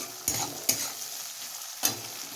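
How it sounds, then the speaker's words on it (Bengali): Onions sizzle steadily in a hot pan with chilli and garlic, with a few sharp scraping stirs of a utensil cutting through the frying hiss. "দেখো পেঁয়াজটা ভাজা ভাজা হয়ে গেছে"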